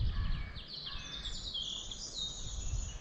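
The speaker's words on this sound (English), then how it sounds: "The beautiful bird song of the East Lindsey countryside" Faint, high bird calls and chirps trail on and off over a low rumble of wind or background noise in the East Lindsey countryside, with no talking.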